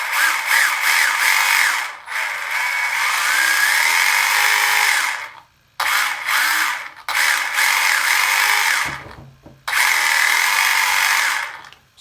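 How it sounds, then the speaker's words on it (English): Electric motor of a Tamiya Stadium Thunder RC car running, a loud high-pitched whine in several bursts of a few seconds each, separated by brief pauses, close up. "And then we've got the motor,"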